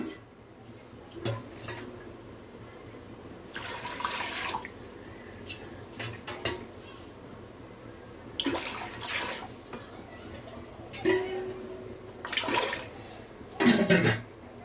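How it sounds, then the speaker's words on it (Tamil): Water poured into a pressure cooker in a home kitchen while cooking intestine gravy, several separate bursts of splashing and trickling, each lasting a second or two, with quiet gaps between them. "இப்போ குக்கர் வச்சு அதில் நான் வந்து தேவையான அளவுக்கு தண்ணி ஊற்றுறேன்"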